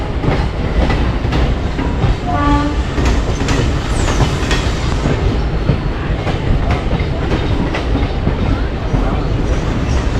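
Mumbai local train passing close by, heard from another moving train: a loud, steady rumble with rhythmic clatter of wheels over rail joints, brief squeal-like tones early on, and a constant roar throughout.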